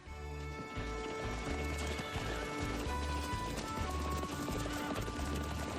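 Horses clop along at a walking pace with steady hoof beats, and a horse neighs partway through, over a busy background.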